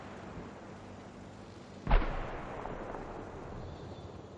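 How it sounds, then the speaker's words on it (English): A tree crashes down in World of Tanks: one sudden heavy crack and thud midway, with a brief rumbling tail that fades into steady low background noise. "There's a tree falling down."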